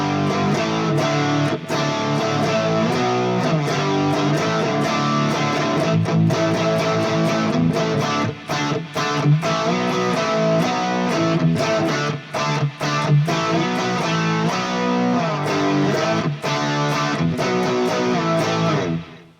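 Distorted electric guitar chugs through a riff, loud and dense with a steady driving rhythm and brief choppy breaks near the end, played alone without voices.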